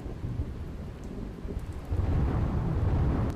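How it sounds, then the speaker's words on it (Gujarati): Unseasonal rain in Gujarat falls steadily while deep, low thunder rumbles swell louder in the second half, no voices. "વીજળીના કડાકા સાથે વરસાદ પડતા"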